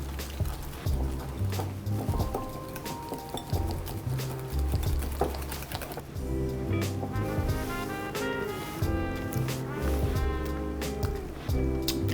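Fresh cracked black pepper and kosher salt whisked together in a bowl for lemon pepper wings, a continuous stirring and clinking heard under prominent background music.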